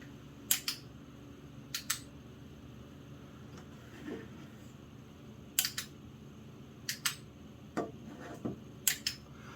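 A relay clicking in a DIY headlight powered by an M12 battery, sharp isolated clicks in pairs at irregular intervals, close and crisp against a quiet low hum.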